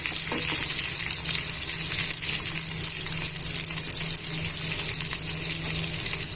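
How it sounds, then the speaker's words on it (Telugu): Chopped onions and green chillies fry in oil in a pan, a steady close sizzling hiss with faint stirring scrapes and no talk. "యాడ్ చేసుకున్న తర్వాత ఇవన్నీ దోరగా వేయించుకోవాలి"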